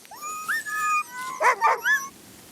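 A young sled dog whimpers in high whining tones, then lets out a few sharp yips close by, in a quiet outdoor setting with no voices.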